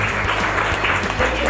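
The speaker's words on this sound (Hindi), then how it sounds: "जोरदार ताली हो जाएगी।" Loud, dense applause from an audience at a Hindi-language motivational talk about MLM business plans, a steady wash of clapping throughout with a low hum beneath.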